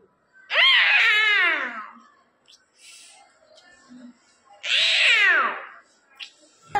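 A schoolboy vocally imitates fighting tomcats, giving two long, loud, wavering yowls separated by a pause filled with faint background noise and quiet voices.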